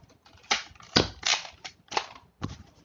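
Nerf Accustrike toy blaster firing and being reloaded: five sharp plastic snaps and clacks spaced about half a second apart, close and fairly loud, with no talking.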